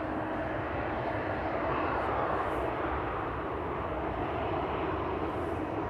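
A Turkish Airlines Airbus A330-300 at Amsterdam Schiphol gives off a steady, loud jet engine roar that stays even and broadband for the whole stretch, with no talk over it.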